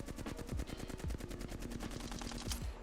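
Rapid automatic gunfire from a weapon in the video game Apex Legends, a fast even stream of close, punchy shots lasting about three seconds with no talk.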